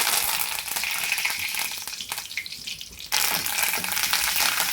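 Steady hiss of peppercorns, cumin and curry leaves sizzling in hot ghee, loud and close, briefly dipping before surging back, with no talking.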